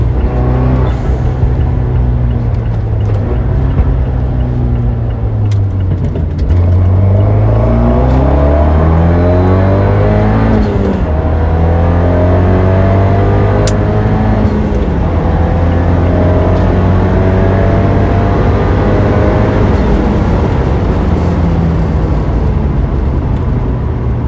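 Fiat 124 Spider turbo engine pulling hard from second through fourth gear, revs climbing and dropping at each shift in a loud, continuous close-up roar with no talking.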